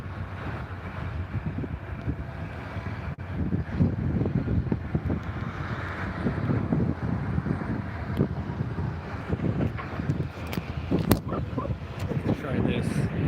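Gusty wind buffets the microphone, with low rumbling bursts rising and falling continuously, while people talk intermittently outdoors at a large factory site.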